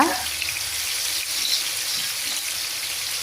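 Fish frying in oil over medium heat, making a close, even, continuous hissing sizzle with no break across the short stretch.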